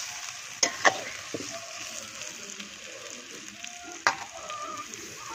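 Potatoes are added to meat frying in a pan, giving a quiet steady sizzle with a few sharp clinks and scrapes from stirring, all fairly faint and without talk.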